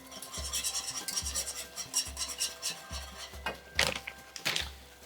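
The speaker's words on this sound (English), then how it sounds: "And we'll just cook that up, continually whisking it." Wire whisk scraping around a pan as a sauce with plant-based milk cooks, rhythmic rasping strokes repeating about once a second, close and moderately loud.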